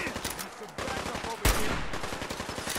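Rapid gunfire in the video game Fallout 4, a dense burst of close, loud shots with one especially sharp blast partway through, layered over game sound.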